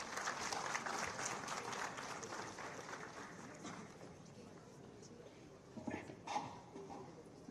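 An audience at the opening ceremony of a disaster management conference claps in sustained applause that starts strong and slowly thins out, with a few scattered louder claps and faint voices near the end.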